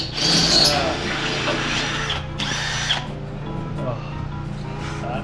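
Harbor Freight power drill whirring loudly up close in a shop where a truck's fender wells are being cut, a harsh continuous grind with brief pitch changes and pauses, voices in the background.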